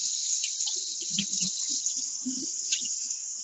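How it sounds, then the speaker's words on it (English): Cold tap water running steadily into a colander of ramen noodles in a kitchen, a continuous hissing stream with soft splashes and knocks beneath it. "we're going to run them under cold water"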